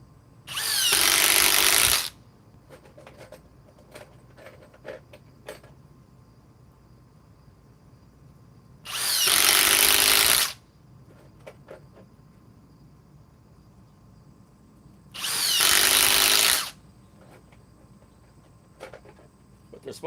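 A Kobalt XTR power tool runs in three separate bursts of about two seconds each, loud and close, with quiet pauses between them that are filled by faint background noise.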